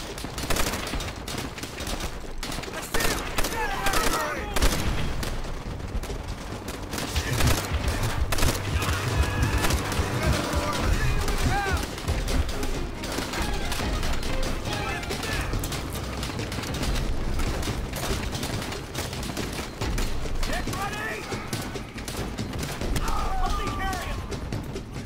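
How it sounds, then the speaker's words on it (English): Machine gun fire rattles in rapid bursts during a battle at Shuri Castle in Call of Duty: World at War, mixed with other gunfire and game noise while a voice talks over it. "Machine gun! Where's the machine gun?"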